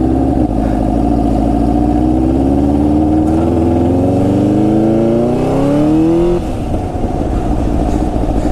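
A Honda CBR1000RR sportbike on a test ride, its engine loud and close, climbing steadily through a long rising rev before dropping off and settling into a steady drone.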